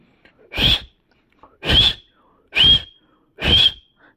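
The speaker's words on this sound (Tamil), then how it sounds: "என்ன இப்படி விசில் அடிச்சுங்க" Four short, sharp whistles repeat at a steady pace, each one loud and close with brief silence between them, with no talking.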